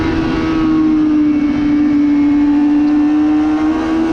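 A motorcycle accelerates hard down the start-finish straight of the Dubai Autodrome GP circuit, its engine holding a loud, steady high-revving drone close up from start to finish.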